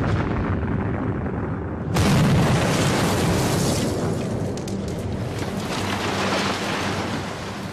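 A deep, sustained roar of explosives blowing up WWII concrete pillboxes on the Siegfried Line, loud and rumbling throughout, with a heavier surge partway in.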